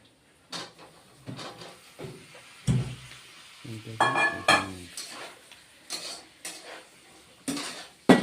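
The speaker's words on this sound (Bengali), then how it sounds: "এখন ভেজে রাখা ফুলকপিগুলিও দিয়ে দিচ্ছি" Fried cauliflower pieces tipped into a pan of cooked-down masala for a cauliflower, potato and bori curry, heard as a series of close metal spoon-on-pan knocks and scrapes with a faint sizzle underneath; no talking.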